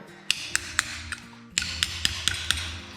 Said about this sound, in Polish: Teraz bierzemy młotek i go dobijamy